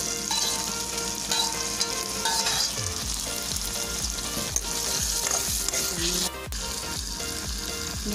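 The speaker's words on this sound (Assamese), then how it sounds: "বইল কৰি লোৱা আলুটো এতিয়া অকণমান ভাজি লৈছোঁ" Boiled potatoes fry in a pan with tomatoes while being stirred, a loud continuous sizzle with scraping stir strokes throughout and a brief drop in level near the end.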